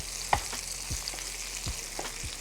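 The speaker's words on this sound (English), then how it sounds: "If you're feeling frisky, you can baste them in that butter" Salmon bites fry in butter in a skillet with a soft steady sizzle, and a spoon clinks against the pan a few times while basting, quiet and close without any talking.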